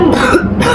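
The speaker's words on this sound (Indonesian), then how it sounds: "waktu menghembuskannya itu disertai seperti mau batuk" A single throaty cough-like clearing, pushed out on an exhale during a deep breathing and effective coughing exercise, close and fairly loud with breathy noise around it.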